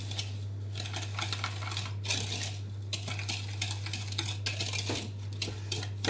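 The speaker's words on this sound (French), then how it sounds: "Pour ça, j'utilise mon fouet plat métallique, hein." A flat metal whisk beats eggs and sugar in a bowl, with rapid clinking scrapes against the sides coming in repeated bursts over a low steady hum.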